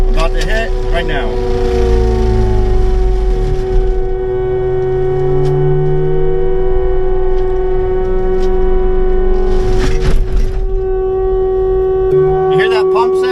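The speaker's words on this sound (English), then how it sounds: "You hear that pump sound?" Hydraulic pump of a Fecon Blackhawk Fusion mulcher mounted on a CAT 299D3 XE whines with a steady high tone over the machine's low engine drone, loud and close, with bursts of louder noise; a person talks over it.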